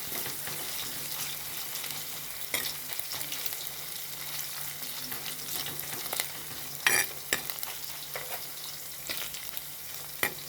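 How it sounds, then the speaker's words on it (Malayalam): Ginger and garlic sizzle steadily in hot oil for a sardine chilli curry, with occasional spatula scrapes and clinks against the pan cutting through the continuous close frying hiss. "ഒരു ഗോൾഡൻ ബ്രൗൺ കളർ ഏകദേശം ആവുന്നത് വരെ ഒന്ന് നമുക്ക് ഇളക്കാം."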